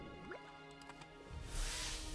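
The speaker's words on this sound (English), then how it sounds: "Let's make us up a little bit more water." A gnome mage conjures water in World of Warcraft, a short run of soft liquid drips and squishy magical gurgles followed by a brighter watery swell, heard alone at low volume.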